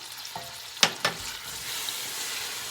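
Carrots and diced cherry tomatoes cooking in a soup pot with cabbage, a steady soft sizzle after a few sharp clanks of a spoon against the pot, no talking.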